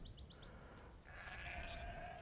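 Sheep bleat in the Age of Empires 2 DE strategy game, a few short quiet bleats early on, then a louder, wavering bleat over steady game background noise.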